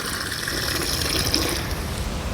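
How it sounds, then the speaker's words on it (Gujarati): Water is poured from a tap onto plants and creepers in a village, a soft steady gushing and splashing at close range. "એમાં પાણી નાખી દઈએ"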